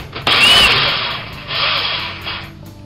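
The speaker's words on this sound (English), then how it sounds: "obviously drill down to the depth of the tea light" A power drill bores into a green wood stump, a loud, high whining grind that starts sharply, eases slightly, then surges again before fading out near the end.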